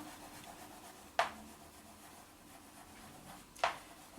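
Two brief squeaky strokes of chalk or pen writing on a board during a geometry lesson, quiet and well separated against a faint room hush.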